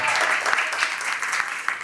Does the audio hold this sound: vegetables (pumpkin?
no